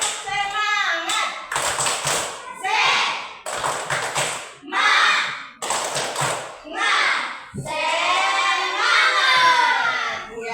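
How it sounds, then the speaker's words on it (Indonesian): A class of children claps the Indonesian 'tepuk semangat' rhythmic cheer in bursts of quick, sharp claps, with a teacher's voice and group shouts between the patterns. "Mari kita tepuk semangat 1 kali."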